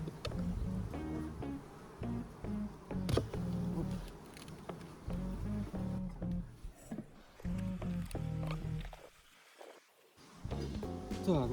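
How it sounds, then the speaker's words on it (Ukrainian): A close, continuous buzzing drone of a honeybee swarm humming at once in a hive, rising and falling in loudness, with a short quieter gap near the end. "дивіться, бджоли повно."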